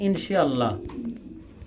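Pigeons coo close by in short, low, throaty phrases, with a voice heard alongside them.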